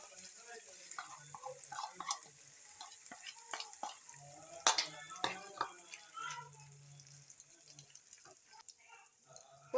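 Green pea paste frying and being stirred in a pan, with soft crackling sizzle and intermittent scraping clinks close by, alone and without talk.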